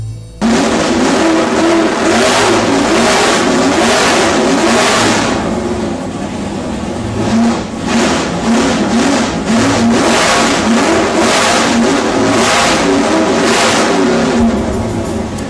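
A 1000 HP nitrous-fed 572 cubic inch big-block Chevy engine from Nelson Racing runs loud and close, with a rough, lumpy idle broken by repeated hard revs that rise and fall throughout.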